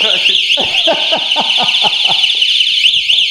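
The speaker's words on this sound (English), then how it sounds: "See, then the alarm is gonna go off." An Electric Bike Company Model R e-bike's anti-theft alarm sounds loudly and continuously, piercing and electronic, warbling in a high repeating pattern, with rhythmic lower chirps pulsing beneath it.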